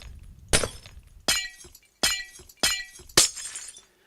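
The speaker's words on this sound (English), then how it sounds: "the placing sounds actually sound like breaking glass, which I'm suspecting is probably not correct" Glass block being placed in Minecraft, giving five separate bright shattering crashes spaced about half a second to a second apart, each ringing briefly before fading, loud and close with no talk.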